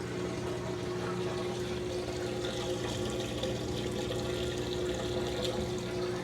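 Sewer water drains steadily through a house's sewer line during repair work, a continuous rushing, gurgling flow with a pump-like hum, moderately loud and unbroken.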